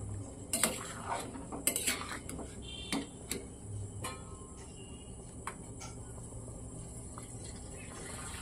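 Peas and potatoes with spices being mixed in a pot: a spoon clinks and scrapes against the metal in irregular strokes, fairly close and quiet, with a soft background hum.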